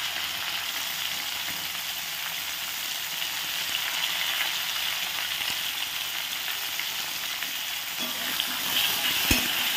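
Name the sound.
frying cauliflower, potato, carrot and bean vegetables in a pan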